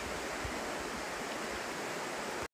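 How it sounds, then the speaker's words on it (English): A clear creek flows through the Maine wilderness with a steady, close, even rush of water that holds constant before cutting off abruptly. "Coming over this flowing creek."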